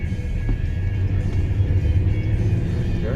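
A regular passenger car drives through a heavy March snowstorm in Rockville, Maryland, its low engine and road rumble steady and close from start to finish, with no talking.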